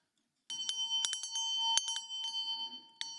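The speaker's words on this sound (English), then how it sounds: "which was the bell I grew up with and that my mother used to call us to dinner with" A bright metallic bell rings repeatedly in quick irregular strikes, each tone ringing on with a sustained shimmer, loud and close with no talking.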